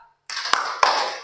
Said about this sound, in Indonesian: Bapak minta kita untuk tepuk semangat